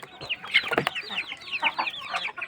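Several country chickens clucking and chattering close by in quick, overlapping bursts, with no talking.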